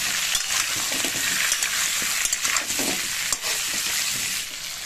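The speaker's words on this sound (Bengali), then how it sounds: "কুমড়োগুলো দিয়ে সামান্য আমি হালকা করে ভেজে নেব।" Pumpkin pieces frying in hot oil for a fish-head pumpkin curry, a steady close sizzle and crackle that carries on without pause, with faint stirring scrapes and no voices.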